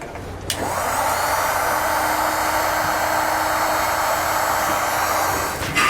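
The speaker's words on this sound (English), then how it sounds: "Then you can take your heat source and shrink it up." A heat gun blows steadily to shrink heat-shrink tubing over a wire connection during a HydraStar kit install on a 2020 Jayco Seismic toy hauler; a loud, constant whooshing drone runs nearly the whole stretch after a short start, then cuts off.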